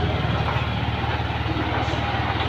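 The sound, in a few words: Yamaha Aerox scooter engine started and running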